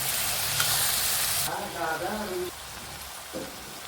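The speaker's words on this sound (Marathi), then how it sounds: "टोमॅटो घेऊया छान परतून" Chopped tomatoes hit a hot pan with coriander paste for chole, starting as a loud, bright sizzle, then quieter stirring and scraping with a few clinks as the frying settles.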